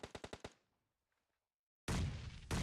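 Explosive grenade blasts in the battle royale game PUBG Mobile during a women's pro league match: a rapid burst of five sharp bangs, a brief silence, then two loud, sustained roaring explosions.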